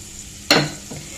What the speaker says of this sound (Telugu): ఇప్పుడు ఈ ఆయిల్లో పోపు గింజలు వేసేసుకుందాం.